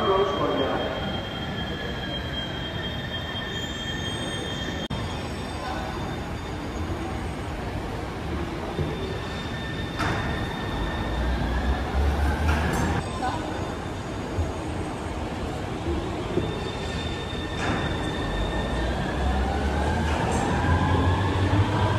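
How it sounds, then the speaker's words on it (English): A small metro train in Copenhagen, Denmark pulls in with long, loud wheel squeals and screeches over a steady rumble, braking gradually as it arrives, with some voices in the background. "They're very small trains, aren't they, Paul?"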